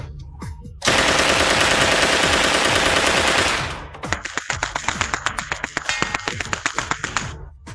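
A fully automatic 9mm Uzi submachine gun fires at a gas bottle. A loud, continuous burst lasts about three seconds, then a rapid series of sharp individual shots follows in quick rhythm.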